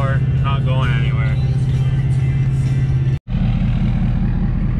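Car engine floored with wheels spinning on glare ice, a loud steady low roar that holds throughout with a brief cut near the end, voices talking over it.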